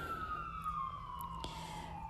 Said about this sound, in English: Here comes our routine sirens.